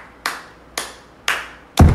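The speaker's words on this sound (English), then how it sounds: "they actually clapping" Four sharp hand claps ring out at a steady, evenly spaced beat, close and crisp, with no talking.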